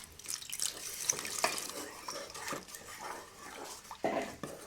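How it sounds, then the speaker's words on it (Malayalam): Water pours and splashes into a pressure cooker nearby while making kuska biryani, a continuous gurgling stream with a few small clinks. "ഇതിലേക്ക് നമുക്ക് കുറച്ച് വെള്ളം കൂടി ചേർത്ത് കൊടുക്കാം."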